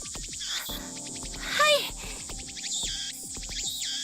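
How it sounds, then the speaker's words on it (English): Loud, dense insect chirring of cicadas in a summer scene from the Steins;Gate visual novel, a steady buzzing drone with pulsing chirps and a brief brighter call partway through, filling the whole stretch without speech. "My God, the cicadas are loud."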